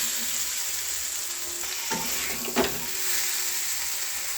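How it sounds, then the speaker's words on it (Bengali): Pointed gourd, prawns and potatoes frying in a spiced masala, a steady sizzle and hiss with a few brief stirring scrapes near the middle, no voices. "মশলাটা কষা হয়ে গেছে, এবার পটল, চিংড়ি, আলুগুলো দিয়ে দেবো।"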